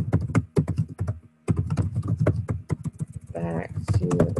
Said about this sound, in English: Type in my resolution.